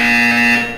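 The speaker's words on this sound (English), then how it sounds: "When you hear the buzzer, look down at the floor." A steady electronic buzzer tone from the video game Portal 2 sounds loud and close for just under a second, a sustained alarm-like drone that fades slightly at the end, with no talking.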